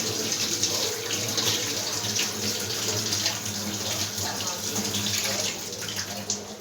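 Scrubbed brass and copper utensils rinsed under a running water tap, a steady close splash of water hitting metal and the sink, continuous throughout with faint clinks and no clear talk.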